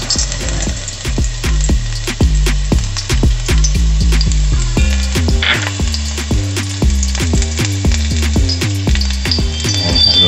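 Garlic sautéing in hot oil until brown for a seafood dish, a loud steady sizzle broken by rapid rhythmic clanks of a utensil stirring the pan.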